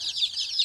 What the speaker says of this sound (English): Charlotte, how many chickens are there?